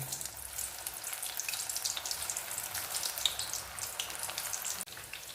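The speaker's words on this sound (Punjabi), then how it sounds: "ਤੇਲ ਗਰਮ ਹੋ ਗਿਆ ਵਾ ਹੁਣ ਅਸੀਂ ਇਹਦੇ ਵਿੱਚ ਪਕੌੜੇ ਪਾ ਲੈਣੇ ਛੋਟੇ ਛੋਟੇ ਪਕੌੜੇ ਪਾ ਲੈਣੇ" Potato, onion and spinach pakoras sizzle in hot oil, a steady crackling hiss with scattered pops that continues evenly throughout, close up and without speech.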